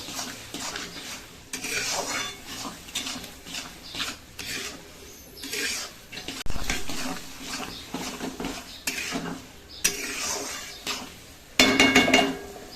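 A spoon scrapes and stirs sugar through taro-leaf curry with prawns in a metal pan, giving repeated close rasping, clinking strokes in uneven bursts with no talk.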